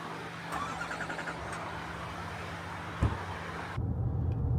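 Car driving up a road toward Exit Glacier near Seward, Alaska, a steady close interior rumble of engine and tires with a brief thump partway through, then rougher road noise.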